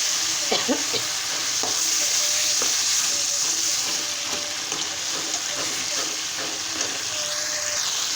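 Rohu fish head fries in a pan as it is stirred, a steady loud sizzle with scraping stirs throughout and no talk.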